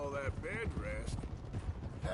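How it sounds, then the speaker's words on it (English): Horse hooves clip-clop over rocky ground in the video game Red Dead Redemption 2, a steady muffled rhythm running beneath characters talking throughout. "Look how small it is next to Bill's horse"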